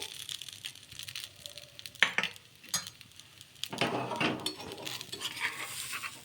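Pesarattu bun dosa cooking on a low flame in an oiled pan, with a soft background sizzle broken by several clinks and scrapes of a spatula against the pan.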